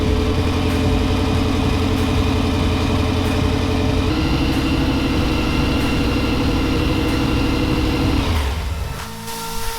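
A Model A gasser rat rod's engine runs at a high, busy idle, loud and close, with a rapid lumpy pulse that shifts partway through before the engine cuts off near the end.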